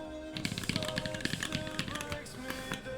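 Quick clattering keystrokes on a mechanical keyboard fitted with Holy Panda switches, a dense run of close, crisp taps at moderate loudness with no talking over them.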